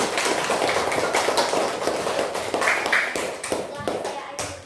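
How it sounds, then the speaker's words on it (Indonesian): Classroom of young pupils clapping hands together during a lesson, a steady, moderately loud patter of many claps with a murmur of voices mixed in. "Ya, tepuk tangan dong"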